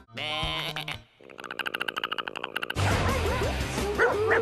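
A dog gives a rapid run of sharp, yippy barks, loud and close, between bursts of other noisy sounds.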